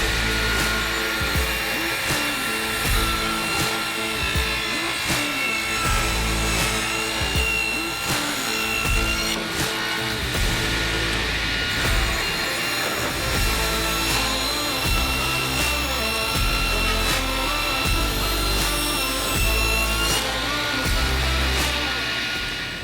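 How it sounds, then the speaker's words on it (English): Power saw ripping maple boards to width in a woodshop, a continuous loud whine with repeated cutting surges and a rough, grinding texture throughout. "I want to go ahead and cut them to their final width"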